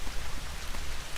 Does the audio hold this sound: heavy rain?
yes